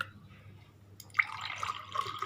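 Pineapple water pouring into a glass: after a quiet second, a soft splashing stream begins and runs on steadily at close range.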